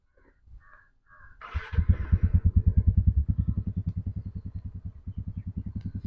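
TVS Ntorq scooter being started: a brief starter whir, then the small engine catches and settles into a close, steady rhythmic idle putter, with a faint voice just before it fires.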